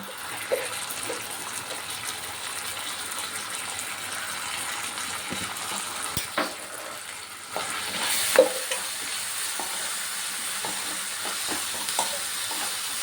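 Tomato sauce added to Maggi noodles cooking in a pan, with steady sizzling and frying hiss, a brief splash and stirring scrapes, close and fairly loud with no voices.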